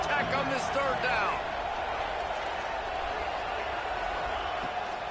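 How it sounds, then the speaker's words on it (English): Stadium crowd roar at a Baylor versus Texas Tech college football game, a steady loud wash of voices through a third-down play, with a brief clearer surge of shouting near the start. "The crowd electric, trying to help tack on this 3rd down."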